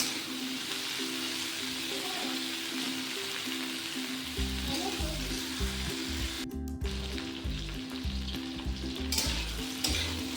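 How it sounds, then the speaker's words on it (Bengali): Okra (ladies' finger) frying lightly in a pan without water gives a steady, close sizzle with a dense crackle throughout, and low thumps from stirring join in partway through. "ঢ্যাঁড়সটা আমাদের ভাজা হচ্ছে এই পর্যায়ে"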